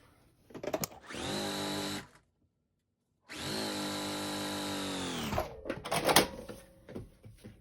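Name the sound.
sewing fabric strips together with a sewing machine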